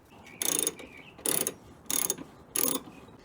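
A hand ratchet clicks in four quick bursts while loosening the 14mm top hat bolts of a BC Racing coilover from inside the trunk of an FRS. The clicks are close and crisp, with short pauses between the bursts.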